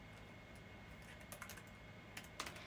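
Soft, quick clicks of typing on a computer keyboard, a few irregular bursts of keystrokes, faint and close in a quiet room.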